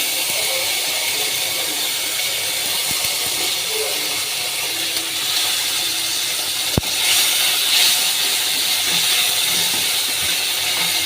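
Nigella seeds and a whole medium tomato sizzle in a little hot oil on a gas stove, giving a steady, even hiss throughout with one sharp pop near the middle.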